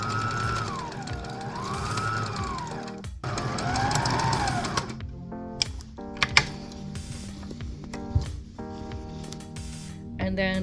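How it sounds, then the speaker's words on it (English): A sewing machine zigzag-stitches a small hem on a pair of shorts in rapid mechanical runs. Brief pauses and light clicks break the stitching, and a voice talks over it. "For sewing the shorts, I did a very small hem with a zigzag stitch to try to help with fraying."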